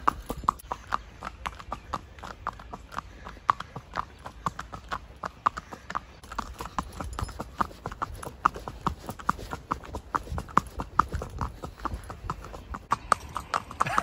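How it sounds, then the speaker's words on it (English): Steady clip-clop of horse hooves on a hard mountain trail in Nuwara Eliya, Sri Lanka, a continuous rhythmic plodding throughout with faint rustling in the background. "I'm on a horse in the mountains"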